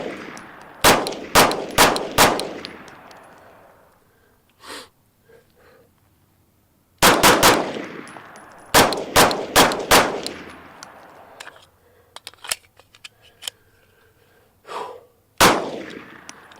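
Shots from a Palmetto State Armory Dagger pistol, fired in quick bursts of three to five loud, sharp reports with short echoing tails, separated by pauses, with a few fainter clanks and single shots near the end.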